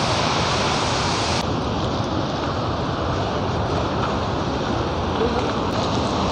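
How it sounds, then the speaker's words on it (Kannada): Mallalli Falls pours heavily nearby, a steady, loud broadband roar of crashing water with drifting spray, continuous throughout with no break. "ಫುಲ್ಲು ನೀರು ಬೀಳ್ತಾ ಇದೆ"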